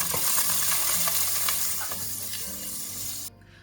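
Olive oil and butter sizzle and crackle in a heated pot for beef stroganoff, a dense steady frying hiss that drops in level near the end and then cuts off abruptly.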